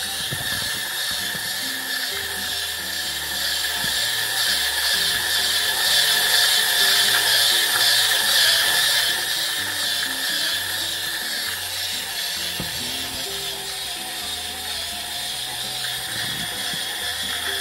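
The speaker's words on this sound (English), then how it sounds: "Little bit slow, and that's normal for an 140 RPM grinding speed." A StarSeeker Edge coffee grinder grinds beans at a slow 140 RPM, giving a loud, continuous mechanical whir with rapid ratcheting crunches throughout, close and alone.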